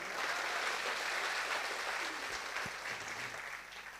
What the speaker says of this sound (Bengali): ওদের জন্য একটা তালি দিয়ে দেন